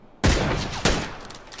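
Two loud gunshot bursts in PUBG, a sharp blast followed by a second about half a second later, each ringing out with a decaying tail.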